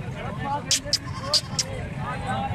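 At a goat livestock market in Dera Ghazi Khan, a goat bleats in short, wavering calls close by, while people talk and traffic noise runs underneath.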